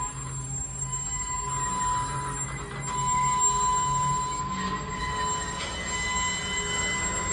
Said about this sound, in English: They're applying their brakes.